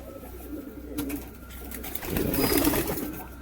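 Kalanka pigeons cooing softly nearby, a few low throaty calls rising in a cluster toward the end over faint background noise.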